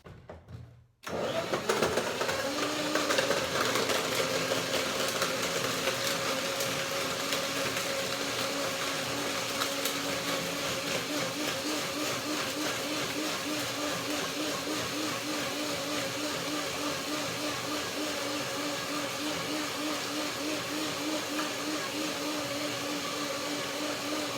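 A blender whirs through dates and cashew yogurt cream, kicking in loudly after a brief pause and then running as a steady, continuous grinding drone with a slight pulsing texture and no talking.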